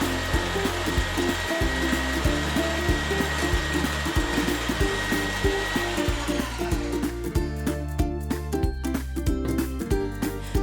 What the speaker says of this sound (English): We're gonna beat them together until the mixture turns pale and creamy